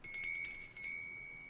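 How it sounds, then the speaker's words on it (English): A small hand bell rings in several quick strokes, bright and close, its last stroke left to ring out and fade alone. "Spoiler bell has been rung."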